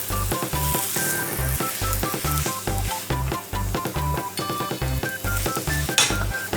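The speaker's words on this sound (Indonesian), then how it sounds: "sewaktu menggoreng lempeng, pastikan adonan lempeng terlihat setengah matang pada satu sisi" Lempeng pancakes fry in a hot pan with a steady, loud sizzle and crackle, joined by a regular thumping beat and a few light clinks.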